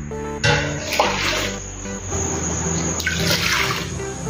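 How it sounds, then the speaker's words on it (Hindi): Water poured into freshly ground rice flour in a large vessel while preparing chakli batter, a steady loud gushing splash that runs for several seconds with a brief lull near the middle. "अभी इसमें पानी डालेंगे हम।"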